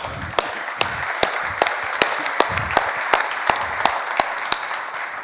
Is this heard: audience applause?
yes